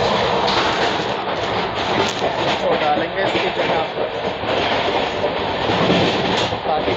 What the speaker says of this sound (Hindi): ट्रेन नॉन स्टॉप 90 km/h पर स्किप की है पीताम्बरपुर को।